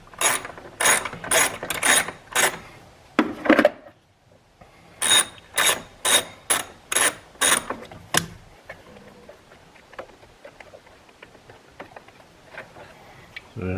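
A socket wrench with a long extension and a 10 mm socket ratchets on the battery hold-down bracket bolt of a RAM 1500 pickup, giving two close, loud runs of sharp rhythmic clicks separated by a short pause, then fading to quiet handling sounds.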